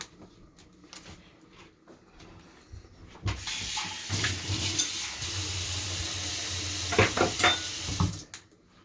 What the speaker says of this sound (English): so that the vegetables can also boil with the macaroni